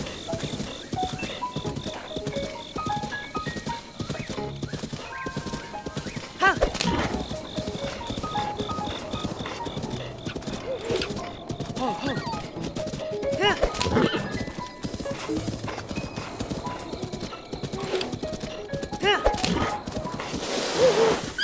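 Horse hooves clip-clop steadily through Zelda: Breath of the Wild as the horse runs, with a fairly even rhythm and a few louder knocks, heard alongside game ambience.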